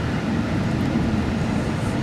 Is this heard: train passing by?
yes